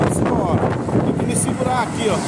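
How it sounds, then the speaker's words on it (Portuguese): Strong wind gusts from heavy trucks passing close by on the BR-101 highway in Itajaí, a continuous roaring rush of air and traffic noise buffeting the microphone while someone talks over it. "Olha a ventania dos caminhões que passa aqui perto de mim"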